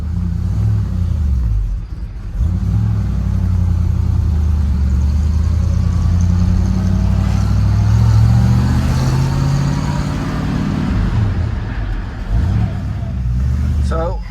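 A 1950 Fargo truck engine with a swapped Ford rear end, driving around the block on a test drive: a loud, continuous low rumble that swells and eases as it pulls along, with a voice talking over it.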